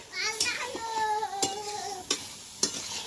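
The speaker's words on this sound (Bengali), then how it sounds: "আর এদিকে দেখো বাঁধাকপিটা বসিয়েছি কপির ঝাল" Cabbage curry cooks in a pan while a utensil stirs and scrapes through it in several distinct strokes, close and fairly loud over a steady sizzle, with brief faint voices in the background.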